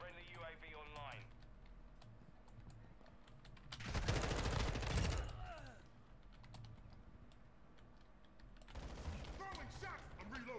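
Modern Warfare 2 (2022) multiplayer gunfire erupts in two loud rattling bursts amid quieter stretches, with keyboard clatter and someone talking in between.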